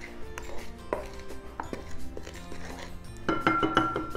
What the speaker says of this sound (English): Let's get the dry ingredients combined.